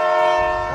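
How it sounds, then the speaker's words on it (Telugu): A scenic excursion train's horn at Jim Thorpe sounds one loud, sustained chord-like blast, heard up close and alone. "that's the train"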